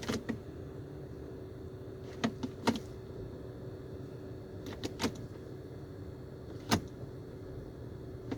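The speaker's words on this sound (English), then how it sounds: "listen to it shift in from park" A 2008 Dodge Avenger's transmission being shifted from park to reverse with the shift knob: a few faint, sharp clicks and taps over a low steady idle hum, quiet and close, with no clunk and no talking.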